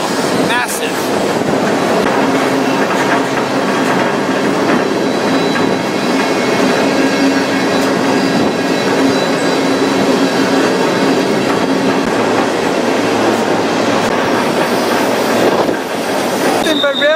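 Loud, unbroken rumble of a freight train on tracks through wild canyon country, wheels squealing and clacking throughout, with a voice now and then under the noise.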